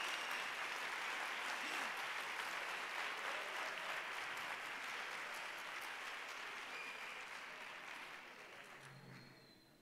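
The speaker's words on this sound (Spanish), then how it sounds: "¿Otra vez las aplaudimos otra vez?" Audience applause fills a sports gala hall in Ceuta in 2018: steady, dense clapping from a large crowd that holds loud for several seconds, then gradually thins and fades toward the end.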